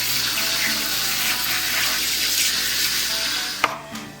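Steady running water from a kitchen tap while mushrooms are washed for soup, a continuous splashing hiss with a small knock near the end.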